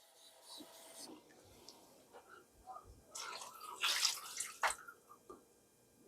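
Water pours into a pot in a short splashing burst, with softer trickles and handling noises around it, fairly close.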